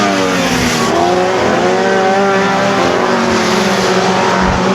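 Race cars roar around a dirt oval track during a feature race, with loud, continuous engine drone and shifting pitch as cars pass, dense and close throughout.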